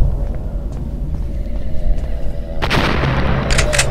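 A bomb explodes in a video game: low rumble at first, then a sudden loud, sharp blast partway through that stays harsh and crackling to the end.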